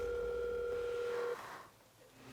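A telephone tone sounds as a call is placed: a steady, loud electronic tone holds for a little over a second and then cuts off, followed by quiet line noise.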